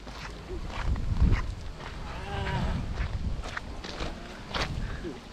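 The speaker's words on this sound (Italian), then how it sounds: "Questo è un asino. L'hai sentito l'asino?" A donkey brays close by in a stable with a rasping call amid shuffling footsteps and murmured voices.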